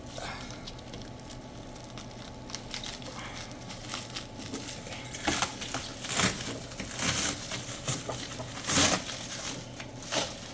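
Plastic packaging on a stainless steel dough sheeter table is pulled and peeled away, giving intermittent crinkling and rustling bursts that grow louder toward the end, close by with no talking.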